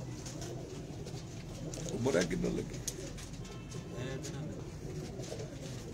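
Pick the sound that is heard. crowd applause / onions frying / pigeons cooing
pigeons cooing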